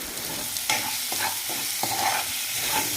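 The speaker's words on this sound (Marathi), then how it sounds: "कांदा आणि टोमॅटो आपण एकत्रच परतवून घेत आहोत." Onion and tomato sauté together in a pan for a spicy Kolhapuri-style okra dish, a soft continuous sizzle broken by several scraping stirs of a spatula against the pan.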